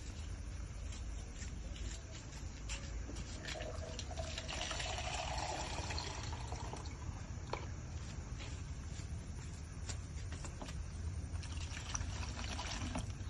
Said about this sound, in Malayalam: നമുക്ക് നേരെ വെള്ളം ഒഴിച്ചിട്ട് തുടങ്ങാം.